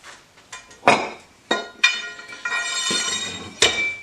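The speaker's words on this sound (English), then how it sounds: "We'll put our clamp on and give ourselves a little bit of extra space." A metal clamp slides and clicks onto a steel dumbbell handle shaft, giving a series of bright metallic clinks and ringing taps spaced irregularly, close up with no talking.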